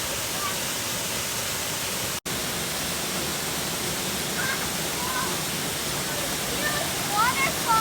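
A loud waterfall at Fonferek's Glen in Green Bay roars as a steady, close wash of falling water, constant and dense, with a brief dropout early on.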